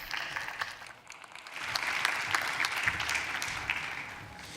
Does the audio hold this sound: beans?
no